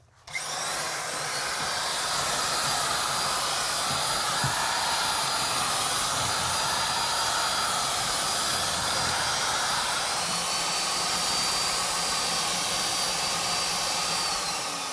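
A power mixer churns a second bag of material in a bucket, a steady loud whir that runs alone for the whole stretch with no pauses.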